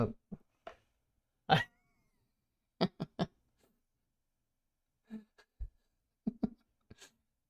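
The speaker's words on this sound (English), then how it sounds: "I can hear my cat." A cat makes a series of short, scattered sounds, some sharp and some softer, separated by stretches of quiet.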